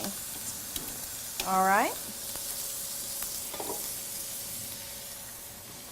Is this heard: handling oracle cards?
no